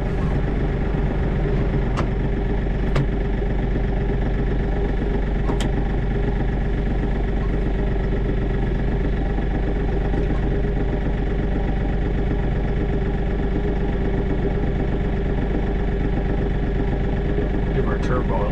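A tractor's engine idles steadily and close by, letting its turbo cool, with a constant low rumble and a few faint clicks over it.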